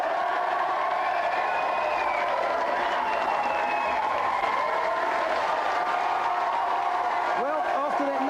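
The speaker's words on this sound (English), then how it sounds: "let's have a big round of applause for all of them." A studio audience on a games television show applauds with steady, dense clapping and some cheering, while a voice talks over it near the end.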